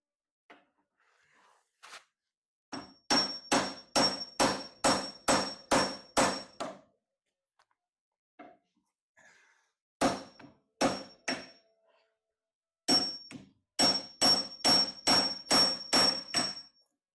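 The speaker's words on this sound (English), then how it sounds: "I do love the sound of a good chisel" A chisel is struck with a hammer into wood in a workshop: loud, sharp, ringing blows in quick runs of six to eight strikes, separated by short pauses, with no talking.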